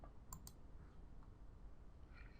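Computer mouse clicks, two quick close taps near the start, then quiet room hiss.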